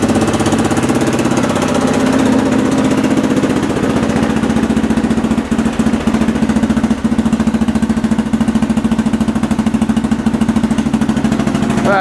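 A Sears SS16 garden tractor engine runs close by at a steady idle, a loud, even mechanical chugging with a rapid regular pulse that holds throughout with only slight wavering.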